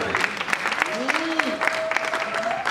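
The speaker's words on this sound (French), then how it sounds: "Je vous demande d'applaudir aussi pour le deux." Applause from guests at a civil wedding ceremony, steady clapping with murmured voices and a few whoops or tonal sounds riding over it throughout.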